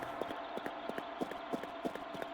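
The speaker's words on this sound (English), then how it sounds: "Yeah, there's the horse." Horse hooves clip-clop in a steady, even rhythm in the Akuma Kira video game. The soft footfalls repeat about every third of a second over a constant low ambient hum.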